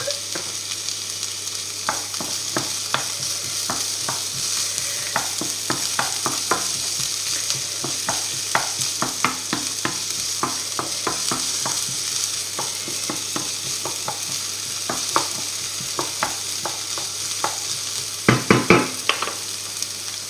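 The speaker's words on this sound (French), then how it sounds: "On met notre ail et notre oignon. Là. On fait revenir." Garlic and onion sautéing in a pan, with a steady sizzle broken by many sharp clicks and scrapes of stirring, and a louder cluster of utensil knocks near the end.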